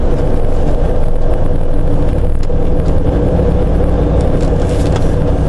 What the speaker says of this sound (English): I'm letting the throttle off, and watch those R's come down.